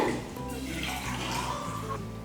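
Water pours steadily into a measuring container nearby for cooking pongal, a continuous splashing trickle over a low background hum.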